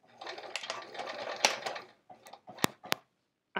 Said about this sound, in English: stitching right on the seam allowance, or the seam, the top stitching I already have there